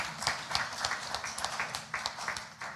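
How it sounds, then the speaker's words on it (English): Audience at a university graduation ceremony clapping for themselves, a steady spread of many hands clapping in a large room, moderately loud and continuing throughout. "let's clap for ourselves"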